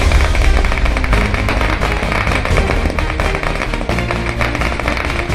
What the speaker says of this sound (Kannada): ಜಮಖಂಡಿಯ ಬಿಜೆಪಿ ಕಾರ್ಯಕರ್ತರು ಪಟಾಕಿ ಸಿಡಿಸಿ ವಿಜಯೋತ್ಸವ ಆಚರಣೆ ಮಾಡಿದರು